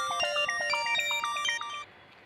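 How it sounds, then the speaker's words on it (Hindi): A phone rings with a bright, looping electronic ringtone melody for an incoming international call, clear and close for about two seconds before cutting off. "इंटरनेशनल कॉल लग रही है कोई"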